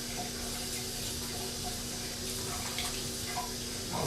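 Water runs steadily from a tap into a sink while soap is rinsed off a face, a continuous close splashing with faint irregular drips and no talking.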